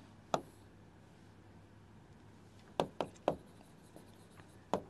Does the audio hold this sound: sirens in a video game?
no